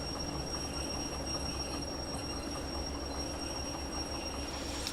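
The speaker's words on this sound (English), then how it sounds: "Right, so on with the train brake." A train in the Derail Valley video game rolls with a steady rumble while high brake squeal tones ring continuously above it, loud and unbroken, with no voices.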